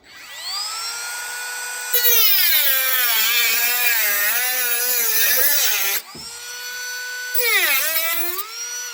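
Rotary tool whining at high pitch as it cuts a metal tab on a jalousie window, the tone dipping and rising under load, stopping briefly, then cutting again close by.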